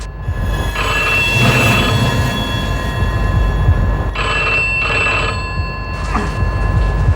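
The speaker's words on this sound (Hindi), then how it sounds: "घर पहुंचते ही फोन का बजना शुरू" A telephone rings in loud repeated bursts inside a home, heard just as people arrive and struggle with a stuck door key, with a constant low rumble beneath the rings.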